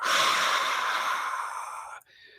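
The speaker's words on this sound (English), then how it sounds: "It's also called the ocean breath." A long, breathy whispered ujjayi exhale with a hissing, ocean-like throat rasp, steady for about two seconds, then a short quieter breath.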